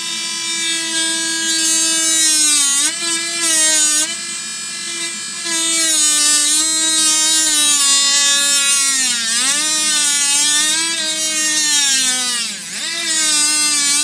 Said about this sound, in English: So I'm going to use my Dremel to drill a pit into his face.